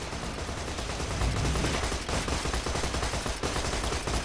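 Dense, continuous gunfire from a dual-wielding gunzerker fighting spiders in the video game Borderlands 2, loud and unbroken throughout with no talk over it.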